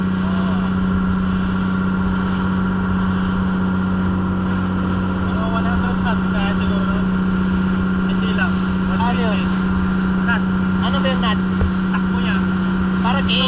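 A powerful motorboat engine drones steadily throughout on a fishing trip in rough waves, with a low constant hum, while voices talk over it.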